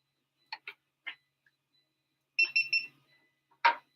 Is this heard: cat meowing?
no